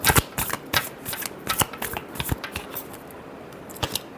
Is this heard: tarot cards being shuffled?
yes